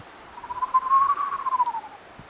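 A human voice imitates a screech owl, giving one wavering, tremulous whinny that rises and falls over about a second and a half, close and clear with no other sound around it.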